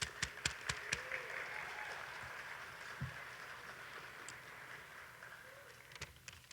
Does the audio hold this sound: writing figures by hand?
no